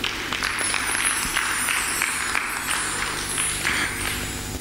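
A church congregation claps together, a moderately loud, steady wash of hands across the room during a service, with some murmuring underneath.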